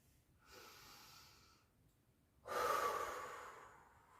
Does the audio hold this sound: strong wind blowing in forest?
no